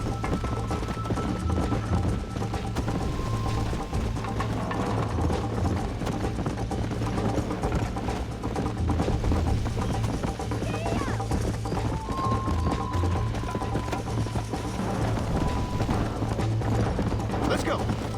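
In Red Dead Redemption, a horse's hooves clop in a steady, continuous trot for a long stretch, mixed with faint tack and mechanical clinks and a dense game soundscape, while voices talk over the ride.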